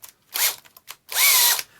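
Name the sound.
Black & Decker 14.4V cordless drill drilling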